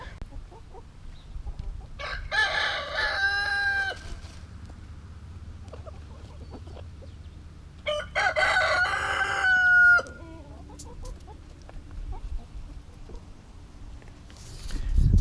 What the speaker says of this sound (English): Chickens are actually pretty hilarious too